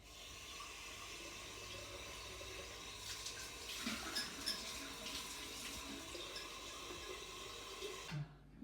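Tap water runs continuously into a sink for washing up during vegan water kefir making, a steady faint hiss with louder splashing in the middle and an abrupt stop at the end.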